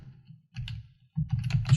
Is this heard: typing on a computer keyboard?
yes